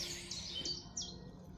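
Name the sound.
small bird calling outdoors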